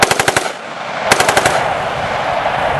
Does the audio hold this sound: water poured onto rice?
no